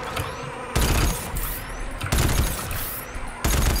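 Gunfire in the game GTFO: loud sustained bursts of automatic shooting with short gaps in between, close and harsh, with no speech.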